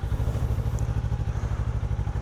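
A Kawasaki KLE500 motorcycle pulling away, its engine thumping in a low, steady, rapid pulse close by, with faint wind noise above it.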